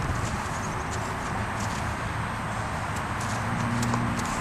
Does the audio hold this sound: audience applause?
no